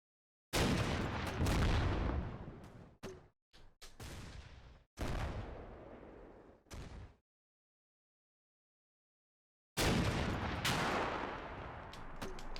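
Bursts of gunfire and high-explosive rounds from a Stryker in Combat Mission: Black Sea, several loud blasts and rattling volleys separated by silent pauses.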